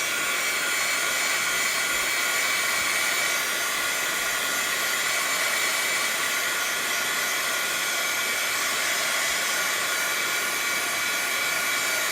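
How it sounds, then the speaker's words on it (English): A craft embossing heat gun blows hot air in a loud, unbroken whooshing roar with a steady high whine, running nonstop from start to finish with no one talking. "my embossing gun would be a lot quieter if I actually had a Stampin' Up! Embossing gun"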